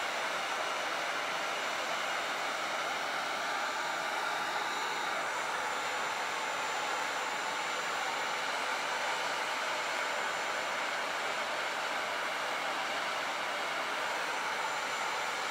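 Wagner heat gun blowing hot air while wood burning a chalk-decorated wooden wings piece, a steady, even broadband hiss that runs unchanged and close by the whole time, with no talking.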